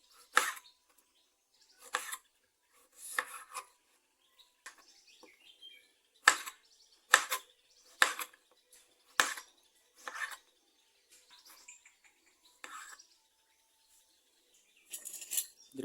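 A knife cuts brinjal on a board in a home kitchen, sounding as a series of sharp isolated chops spaced a second or two apart, clear and close against near silence.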